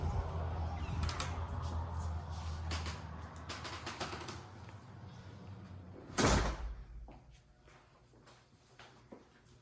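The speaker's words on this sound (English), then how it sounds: "And then we walk into a beautiful 8 foot door in the middle." A large 8-foot front door of a model house swings open with a sharp thud partway through, set against moderate room noise and faint footsteps.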